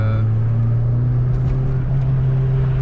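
A Peugeot 106 XSi Phase 1 engine runs at full throttle, giving a sustained, even drone with a strong low tone. The sound is heard close and loud throughout, with no talking.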